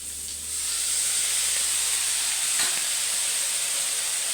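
A continuous hiss and sizzle of a little water added to carrots in a hot pan for vegetable fried rice, steady and close, with a brief clatter partway through.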